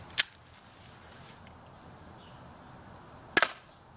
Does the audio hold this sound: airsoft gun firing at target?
yes